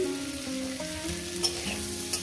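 Mourala fish frying in oil with onion and garlic, a steady close sizzle with faint stirring scrapes and no voices.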